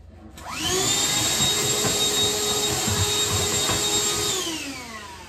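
A small handheld dustbuster vacuum cleaner runs during household cleaning. Its motor whines up from quiet to a loud, steady high-pitched drone, then starts to wind down at the end.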